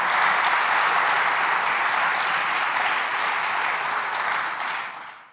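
Church congregation giving a strong round of applause during a worship service, a dense, even wash of many hands clapping that holds steady and then fades out at the end.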